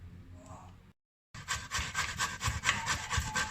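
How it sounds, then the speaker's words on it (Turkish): Steady rhythmic scraping strokes, close and fairly soft, begin after a brief silence and repeat evenly as zucchini is rubbed back and forth on a grater. "rendemizin büyük bölümüyle kabaklarımızı rendelemeye başladık"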